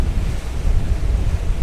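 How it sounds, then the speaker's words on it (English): Sea waves rush and surge against a Pearl 72 motor yacht during a sea trial, mixed with loud buffeting wind on the microphone, a continuous broadband roar with no talk. "Epic waves. Those are epic waves"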